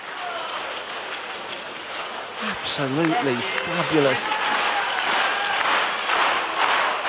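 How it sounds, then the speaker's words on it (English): Sustained applause and a standing ovation from the crowd at the 2012 Copenhagen Masters badminton match between Peter Gade and Lin Dan, a steady roar of clapping beneath a commentator speaking. "the standing ovation and continued applause as much for Lindan as it is for Gade"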